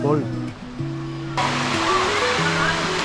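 Water pouring and splashing into a resort swimming pool in Tanay, Rizal, a steady rushing flow that grows louder halfway through, with people talking over it throughout.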